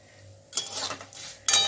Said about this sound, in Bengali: সবকিছু একসঙ্গে মিশিয়ে নেব।